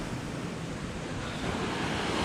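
Sea surf surges steadily and loudly along the shore at Surin Beach, Phuket, in a continuous broadband wash with wind noise on the microphone and no voices.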